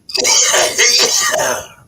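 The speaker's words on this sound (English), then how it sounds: "We're all coughing." One harsh, raspy cough lasting about a second and a half, close and loud, with a brief break in the middle.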